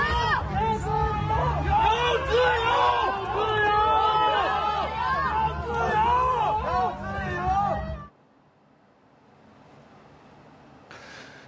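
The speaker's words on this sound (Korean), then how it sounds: "자유를 달라며 함성을 외쳤습니다" A large street protest crowd chants and shouts in unison for about eight seconds, loud and dense, then cuts to near silence with a faint brief sound at the end.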